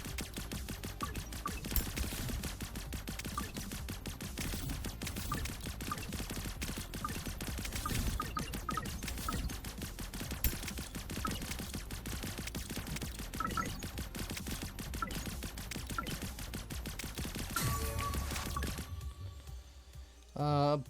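Video game chain gun firing in a long, dense stream of rapid rattling shots that barely lets up for about eighteen seconds, then stops; talk runs faintly beneath.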